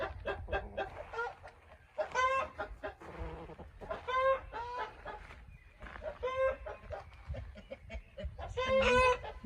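A fighting rooster clucks and calls in agitated bursts in a yard, close and loud, with short pauses between the harsh rhythmic cries.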